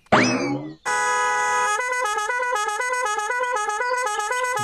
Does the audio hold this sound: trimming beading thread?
no